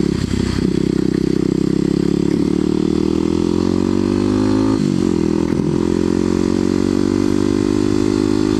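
A Kawasaki KLX250sf dual-sport motorcycle engine drones continuously while riding, a steady close mechanical hum with slight pitch shifts and a brief dip partway through, accompanied by faint rattling.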